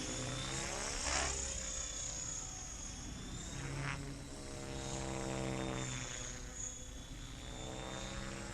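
A radio-controlled Blade Fusion 480 stretch helicopter flies at a distance, its rotor producing a faint, steady buzzing whir that swells and fades slightly as it moves through the air.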